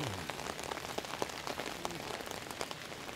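Heavy rain pours onto a leaf-strewn street on a dark day, a dense close hiss of drops with scattered sharper patters, steady throughout with no talking.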